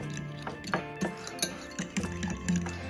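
Egg and a tablespoon of mayo are mixed in a bowl, with a utensil clinking and scraping against the sides in quick, uneven taps, close up and fairly quiet.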